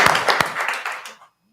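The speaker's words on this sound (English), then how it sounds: "So let's give her another round of applause." Brief applause at a school board meeting, a short burst of hand clapping that quickly fades to silence.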